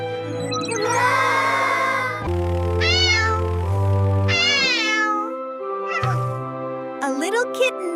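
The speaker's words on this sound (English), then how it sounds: "A little kitten needs help." A little kitten meows repeatedly in close, loud, drawn-out mews with rising and falling pitch, heard alone with no background noise.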